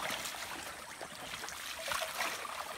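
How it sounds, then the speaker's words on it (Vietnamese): A small forest stream flows steadily nearby, a continuous soft trickling and burbling of water over stones with no talk. "cái suối này không to mấy đâu mọi người"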